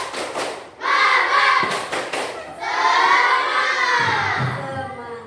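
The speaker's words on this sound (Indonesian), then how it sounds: "Tepuk semangatnya" A classroom of children performs a rhythmic spirit clap, with bursts of claps and thumps mixed with loud group chanting and shouting that swells and drops in time.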